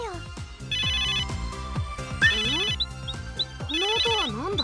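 N-Gear phone ringtone in a Neptunia game: a bright, repeating electronic jingle with plucked notes and a buzzing trill, with a voice speaking over it at points.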